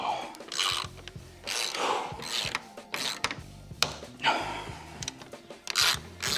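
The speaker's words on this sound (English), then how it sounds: "So that cracking is actually the paint breaking. That's what you're hearing." Dry crackling and creaking of paint breaking as a part is pried free from a Jeep Wrangler Sport Rubicon hood, a series of close, irregular gritty cracks and scraping pops with brief pauses between them.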